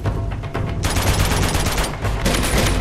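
Gunfire in Uncharted 2: Among Thieves comes as loud, close bursts of rapid automatic shots, one short spurt, then a longer sustained volley with a brief pause before it resumes.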